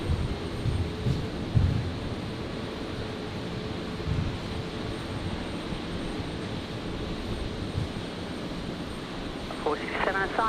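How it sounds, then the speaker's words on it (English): A Jetstar Airbus A321neo jet taxis at Brisbane Airport at night, its engines a steady broad roar held at moderate distance throughout, with radio chatter and voices over it. "Looks like one of the new Jetstar 321 Neos just begun a taxi there."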